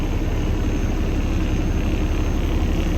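A 2016 Kenworth W900b tri-axle dump truck with an ISX 550 diesel engine idling after warming up, a steady, loud, unbroken low rumble close by with no talking.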